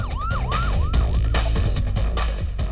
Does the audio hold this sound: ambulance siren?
yes